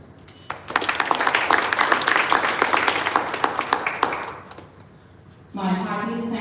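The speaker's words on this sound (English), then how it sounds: "everyone deserves a round of applause" Sustained crowd applause at a community ambulance handover ceremony for a Sai Baba temple group in New Zealand, dense clapping for about four seconds that fades out before a voice begins speaking.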